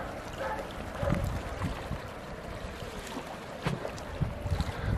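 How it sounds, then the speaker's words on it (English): Wind buffets the microphone on Cummingston Beach along the Moray Firth in Scotland, a continuous low rumbling rush with gusty bursts and irregular thumps, fairly quiet and with no voices. "I'm not sure the wind's kind of affecting us just now."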